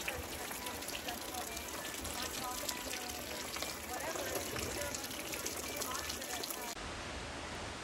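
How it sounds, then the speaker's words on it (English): Heavy rain pours down steadily at an outdoor Oktoberfest in Mount Angel, Oregon, a constant dense hiss of falling water, faint and even, with voices murmuring underneath. "And it is pouring down."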